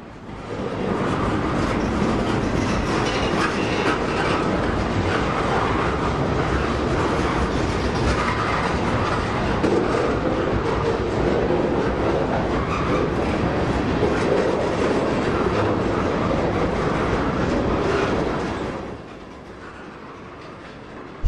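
A long freight train of boxcars, tank cars and flat cars rolls past close by, loud steady rumbling and rhythmic clickety-clack of wheels over rail joints for about nineteen seconds before fading abruptly to quieter background.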